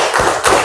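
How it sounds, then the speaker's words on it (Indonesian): Two broad, heavy claps from a group doing the Banyumas clap chant, loud and close, spaced about a third of a second apart. "Yuk, tepuk wong Banyumas."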